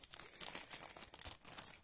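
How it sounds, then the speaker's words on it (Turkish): Thin plastic courier bag for an electronics order being pulled and torn open, a dense run of crinkling and ripping bursts, close and alone. "Şöyle kargomuzun poşetini açmaya çalışacağım"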